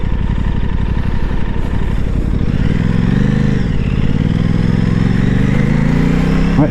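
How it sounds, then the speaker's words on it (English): An Aprilia Tuono 660 motorcycle downshifts through the gears using a quick shifter, its engine loud and close, with a pulsing note that climbs and drops as each gear is engaged. "Quick shifter down, fourth, third, second, first."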